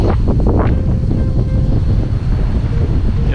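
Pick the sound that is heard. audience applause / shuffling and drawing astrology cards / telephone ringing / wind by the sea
wind by the sea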